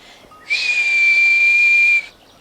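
One person whistles a single steady, piercing note held for about a second and a half, preceded by a faint lower pitch, clear and close with no speech around it.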